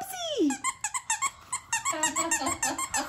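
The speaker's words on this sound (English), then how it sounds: "She's trying to figure out how to make it squeak." A pug squeaks a squeaky toy over and over in quick, uneven bursts, close by, with a higher drawn-out squeal at the start.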